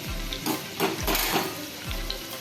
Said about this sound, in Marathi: तडका देण्यासाठी एक टेबलस्पून तेल गरम करायला ठेवलेलं आहे आणि चार पाच लसूण पाकळ्या आहेत